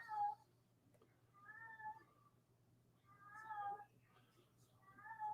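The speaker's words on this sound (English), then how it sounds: "That's just my cat that likes to cry," A pet cat cries and meows repeatedly indoors, several drawn-out wails spaced a couple of seconds apart, fairly close and clear over a low steady hum.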